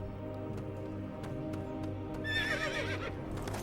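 A horse whinnies sharply over the steady clip-clop of hooves in the Lego Lord of the Rings video game, the hoofbeats evenly paced under a background music bed before the neigh rises near the end.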